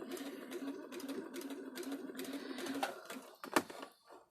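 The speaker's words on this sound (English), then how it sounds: "So I'm back stitching." A sewing machine back stitching a dart runs in a rapid steady chatter of needle strokes for about three seconds, then a few sharp clicks and thread handling follow, close and fairly quiet.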